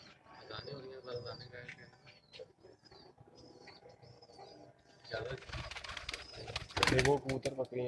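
High flyer pigeons coo softly in the background while people talk nearby, followed by louder rustling and handling noises.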